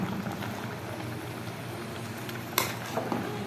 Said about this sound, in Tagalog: Yan, kumukulo na.